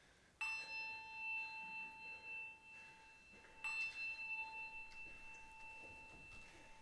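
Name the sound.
bell ringing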